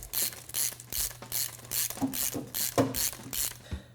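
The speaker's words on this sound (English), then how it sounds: "ratchet it down." A hand ratchet fitted with a 7/16 socket tightens a bolt on a metal snowboard bracket, giving a steady run of close, crisp clicks in quick bursts with short pauses between strokes.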